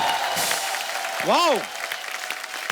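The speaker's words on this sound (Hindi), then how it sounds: "जोरदार तालियां एक बार फिर से।" Studio audience at a television comedy show breaks into applause, with broadband clapping filling the clip and a brief sliding vocal exclamation partway through.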